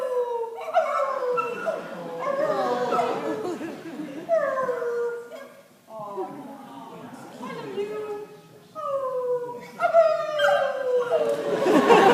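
A dog howls in long rising and falling wails alongside people singing, several drawn-out howls overlapping the voices close by.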